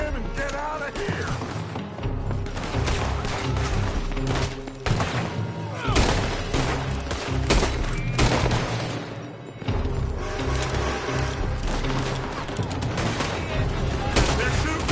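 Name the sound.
gunfire in a video game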